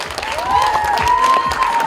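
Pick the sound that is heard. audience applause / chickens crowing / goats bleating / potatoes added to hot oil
audience applause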